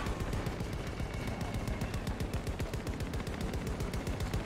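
Rapid automatic gunfire from the video game Battlefield 2042, dense and continuous bursts of shots filling the whole moment at close range with no pauses.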